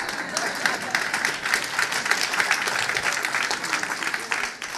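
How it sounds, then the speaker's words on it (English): A conference audience at a World Bank annual meeting session gives sustained, even applause, many hands clapping in a dense steady patter that fades out at the end. "That was an opportunity for an applause."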